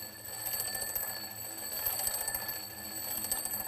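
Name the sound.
alarm clock ringing while moving toward listener, Doppler effect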